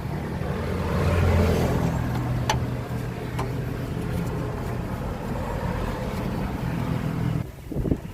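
A Hino dump truck's diesel engine runs with a loud, steady low rumble and wind buffeting the microphone, then dips briefly near the end.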